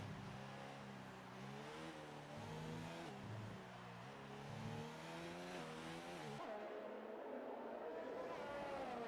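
An F1 car's engine heard on board at the Mexico circuit in the racing game F1 2019, a steady loud tonal whine rising and shifting through gears across the whole stretch, with no talk over it.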